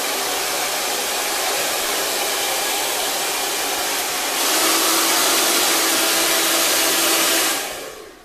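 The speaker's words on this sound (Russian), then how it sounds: "фен должен быть включен на теплый режим." A hair dryer on its warm setting blows steadily with a loud, continuous rushing whoosh, rising slightly in intensity partway through before switching off at the end.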